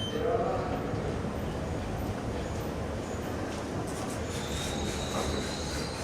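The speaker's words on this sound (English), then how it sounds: "I think there's a train coming very soon" A train arrives at a station with a continuous rumble and faint high wheel squeals, heard at moderate distance under steady ambient noise.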